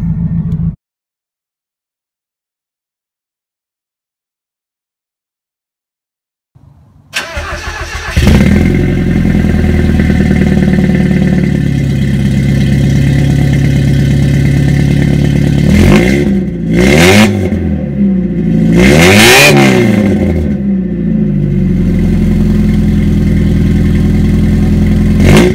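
A Mazda Miata with a 2.5-inch straight-pipe exhaust cranks over and fires up, then settles into a loud, raspy idle that swells through several sharp revs near the end. No one speaks.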